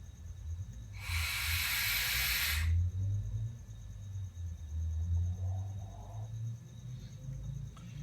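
A TFV8 vape tank with a 0.16 ohm V8 coil fired at 120 watts gives one steady, loud airy hiss lasting under two seconds, heard close up over a low background hum.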